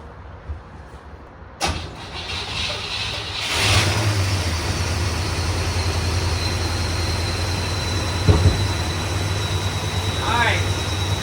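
A 1961 Cadillac hearse engine cranks and catches after a sharp click, then settles into a steady, rumbling idle that runs on, nearby and fairly loud.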